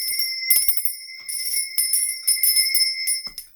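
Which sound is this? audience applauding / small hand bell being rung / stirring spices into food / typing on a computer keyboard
small hand bell being rung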